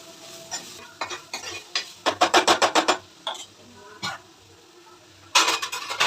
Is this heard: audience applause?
no